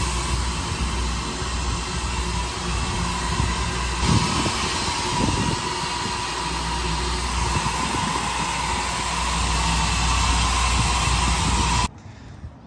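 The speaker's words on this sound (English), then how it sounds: "In case you ever wonder what it's like to fill up a compressed natural gas vehicle." Compressed natural gas being pumped into a 2003 Ford F150 at a fueling station, a steady loud rushing hiss with low mechanical hum that holds for about twelve seconds, then cuts off abruptly.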